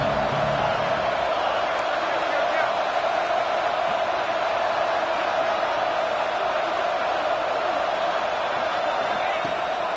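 A stadium crowd in a college football video game roars as a steady, dense wash of cheering that holds at an even, loud level throughout, with a commentator's voice faintly mixed in.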